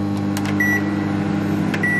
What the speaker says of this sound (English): So I'm microwaving this to taste it for the first time